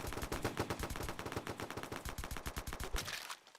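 Rapid automatic gunfire from a video game, with bursts of dense shots running steadily for a few seconds before cutting off abruptly, moderately quiet and with no talking.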